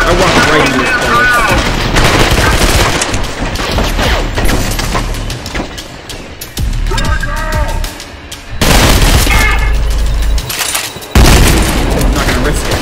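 Enemy gunfire in the Trepang2 shooter game, loud sustained bursts of automatic fire and heavy booming impacts, close and dense, with brief lulls between volleys.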